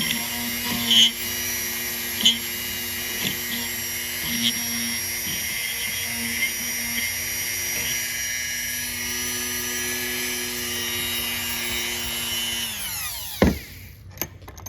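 A Dremel rotary tool with a small green grinding tip grinds sharp edges inside a metal knife clamped in a vise, a steady high whine with faint scraping bumps, loud and close, before the motor winds down near the end.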